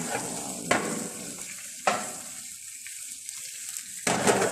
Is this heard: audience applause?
no